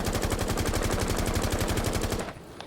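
An L85 rifle in Rainbow Six Siege fires a sustained automatic burst of rapid, evenly spaced shots that stops abruptly, loud with no talk.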